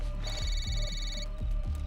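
A phone ringtone plays in a repeating electronic pattern at the start of the passage, moderately loud over a dense, dramatic musical background with low pulsing tones.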